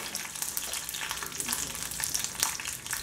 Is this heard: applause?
no